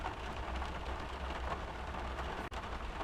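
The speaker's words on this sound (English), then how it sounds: "The rain started, it's still bucketing down as you can hear." Heavy rain pours down beside a lake during a carp fishing session, a dense, steady hiss of drops with no pauses and no voices, close and loud throughout.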